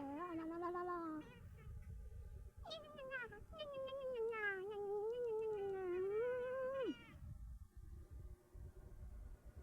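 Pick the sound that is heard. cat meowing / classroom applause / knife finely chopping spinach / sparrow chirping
cat meowing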